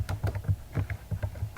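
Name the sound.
typing on a computer keyboard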